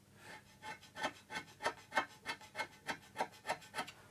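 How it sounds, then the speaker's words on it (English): A hand scraper works the cast iron bed shears of a Myford 7x7 lathe, about a dozen steady rasping strokes in even rhythm, close and moderately loud with no talk. "finish up with a sort of a grind scrape in there"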